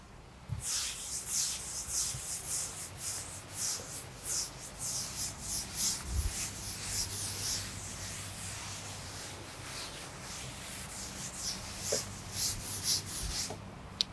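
Rubbing strokes wipe writing off a classroom board, a dry brushing scrape repeated in uneven bursts for the whole stretch, close and alone without any talk.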